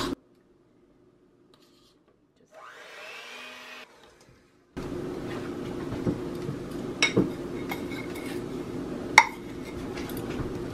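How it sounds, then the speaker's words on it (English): Powdered sweetener being stirred into carrot cake frosting, a brief scraping swirl followed by a steadier stretch of clinking and scraping in a bowl with a few sharper knocks, no talking. "I think I'm going to stir it in first before I start beating it"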